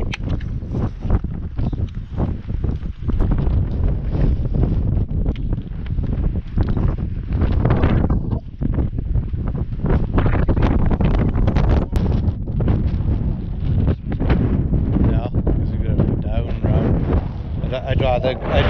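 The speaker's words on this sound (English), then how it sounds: "A bit windy" Strong wind buffets the microphone on an exposed hillside during a hike, heavy gusty rumble throughout with brief quieter moments.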